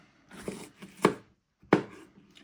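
A kitchen knife chops raw chicken into square pieces on a cutting board for an orange chicken stir-fry, giving three or four distinct, close thunks with short pauses between them and no talking.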